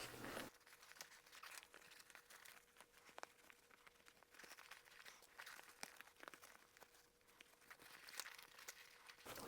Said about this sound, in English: open up our zipper and turn the whole bag right side out